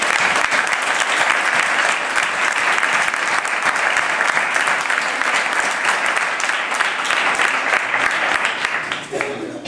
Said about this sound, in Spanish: y para acoger cálidamente al señor Torres, me gustaría que lo recibiéramos con un fuerte aplauso para que se sienta acogido